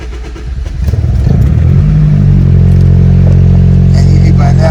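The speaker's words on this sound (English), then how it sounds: "I'm gonna put the key in. I'm gonna crank it up." A Honda Civic with an R18 engine cranks briefly, catches, and settles into a steady, loud, close idle with a low rumble, while someone talks during the start.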